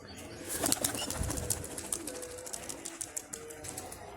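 About fifteen released pigeons take off and fly, their wings flapping in a flurry of close, rapid fluttering beats that carry on in bursts over faint background noise.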